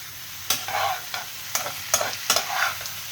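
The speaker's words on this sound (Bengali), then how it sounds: "চিংড়ি মাছটাও হালকা নাড়িয়ে নেব, একবার হালকা ভেজে নিয়েছি" Prawns are stirred as they fry lightly in a pan, giving a soft steady sizzle broken by about five sharp spatula scrapes at roughly even intervals.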